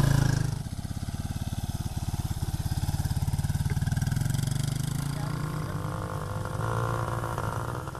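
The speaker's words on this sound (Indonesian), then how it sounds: "Pria-pria ini diajari cara mengemudi motor." A motorcycle engine runs steadily nearby in Cameroon while men learn to ride, with a rapid, even putter that holds level and then eases slightly in pitch toward the end.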